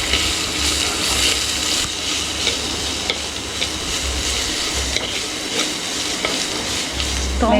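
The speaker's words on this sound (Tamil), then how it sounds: "வெங்காயம் வதங்கிடுச்சு." Onions sizzle and fry steadily in a pan for a mutton curry with cinnamon, cloves and ginger-garlic paste, a continuous close crackling hiss with occasional stirring scrapes and no talk.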